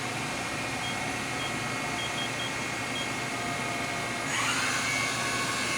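Matsuura MC-600V vertical machining center with its spindle running at 1500 RPM in high gear: a continuous, even mechanical hum and whine with faint intermittent beeps, rising slightly in pitch and loudness near the end.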